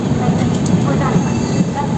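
The MAU–ANVT Superfast train rolls slowly through Ghaziabad, a steady low rumble and rattle of carriages heard from on board, with faint voices in the background.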